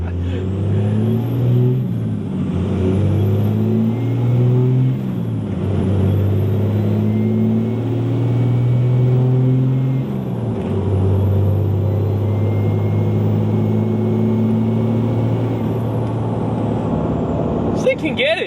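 Tuned 150HP car accelerating hard through the gears, engine rising in pitch then dropping at each of several shifts, loud and close from inside the cabin, with someone talking over it.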